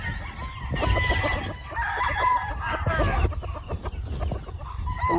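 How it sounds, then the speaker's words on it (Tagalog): Chickens in a farm coop, white birds among them, cluck and crow repeatedly at close range over a busy background of overlapping fowl calls. "yung loob ng manukan niya, pati yung mismong mga manok"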